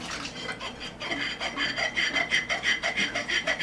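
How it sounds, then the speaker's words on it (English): Wet fingers rubbing and squeaking across freshly washed, grease-free dishes rinsed in very warm water, a close series of rhythmic rasping squeaks repeating steadily with no talk. "If your wet fingers make that sound on there, you know all the grease and stuff is off of those."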